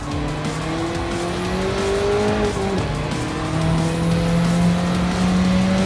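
A race car in Gran Turismo 7 taking a corner during a European championship race, engine whining loudly as it shifts and steadies, with tire squeal through the bend.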